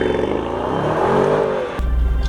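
Mercedes-AMG GT63S engine revving as the car pulls away, a loud close rising and falling exhaust note heard alone that cuts off abruptly near the end.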